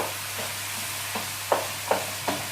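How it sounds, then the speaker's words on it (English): Minced meat for lasagne fries in a pan under a constant soft sizzle, broken by several sharper scraping stirs of a utensil at irregular intervals, near and without talk. "we're going to now cook off that meat and then add in the tomato sauce afterwards. So let's get this meat cooking."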